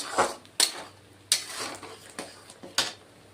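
A spatula scrapes and knocks around a pan while cumin powder and spices fry for a vegetarian paneer and cauliflower dish, with six sharp stirring strokes at uneven intervals over a faint background.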